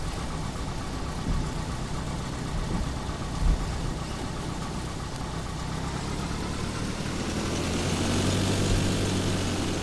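An A2A Cessna propeller engine in the FSX flight simulator taxis at ORBX Tipella, giving a steady, loud droning buzz with a continuous broadband rumble that swells slightly near the end, with no voices.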